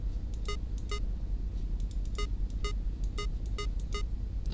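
Telephone in the Five Nights at Candy's 2 video game scaring off the Monkey, a run of short sharp electronic beeps in irregular pairs and groups over a low rumbling background hum.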